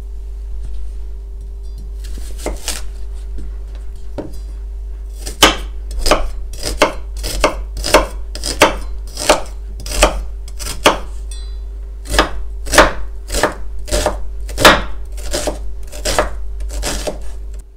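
An onion being chopped on a cutting board with a knife, about fifteen crisp, close knife strikes falling in a steady rhythm after a few scattered taps, over a low constant hum.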